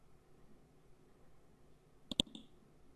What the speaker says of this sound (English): click the Grid Lines checkbox